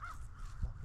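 A single crow caws from over a freshly cut field, fairly close and clear, with soft background noise and no talking.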